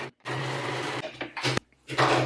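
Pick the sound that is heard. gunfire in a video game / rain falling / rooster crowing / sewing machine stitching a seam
sewing machine stitching a seam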